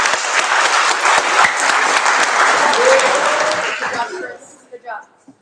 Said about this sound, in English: Round of applause for the presentation.